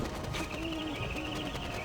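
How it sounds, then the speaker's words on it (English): A short bird call from the Warcraft 3 game repeats as a warbling tonal chirp twice in under two seconds, moderately loud over a soft ambient game bed. "That bird noise is extremely annoying"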